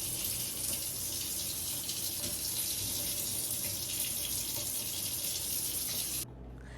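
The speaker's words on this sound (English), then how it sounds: "Drain the excess water from your shrimp." Excess water is drained from shrimp, making a steady, close rush of running water like a tap that cuts off abruptly just before the end.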